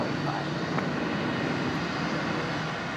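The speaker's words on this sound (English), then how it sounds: "Qantas 943 there, just about to rotate, heading off to Perth" A Qantas airliner at Brisbane Airport, about to rotate on its takeoff roll bound for Perth, produces a steady, loud engine roar with a low rumble and no gaps, heard from a distance.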